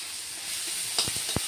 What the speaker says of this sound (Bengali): মাছ ভাজার তেলেই কালো জিরে ফোড়ন আর পেঁয়াজ আর হচ্ছে টমেটো দিয়ে এটাকে ভাজা ভাজা করা হচ্ছে